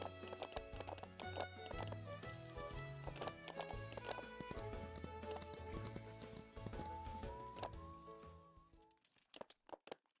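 Horses in the ranch video game The Ranch of Rivershine clip-clop along in steady hoofbeat rhythm with a whinny, layered over bright game music that fades out near the end.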